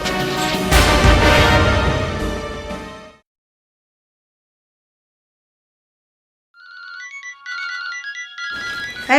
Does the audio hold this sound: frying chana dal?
no